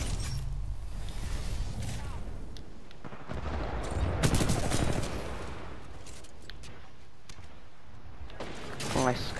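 Burst-fire guns in Titanfall 2 shoot in dense, fast volleys that run almost without a break, loud and close, with explosive game effects layered over them.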